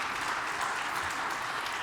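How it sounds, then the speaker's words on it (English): Audience applause for a plenary panel on drones for agriculture at a conference, a brief, dense, even wash of clapping that holds steady throughout. "Let's give a round of applause to this panel."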